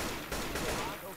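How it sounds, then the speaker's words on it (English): Gunfire in the zombie co-op shooter Left 4 Dead 2, a short, rapid rattle of shots heard close up, with voices talking over it. "Where in the hell you think you're shooting?"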